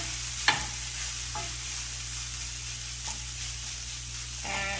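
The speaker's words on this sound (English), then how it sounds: "give that a little stir" A wooden spoon stirs tofu scramble in olive oil in a pan, giving a few scraping strokes over a steady gentle sizzle.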